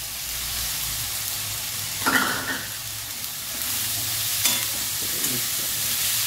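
Cauliflower and potato fry in a pan with a steady, hissing sizzle, and a few distinct scraping stirs come through close and clear.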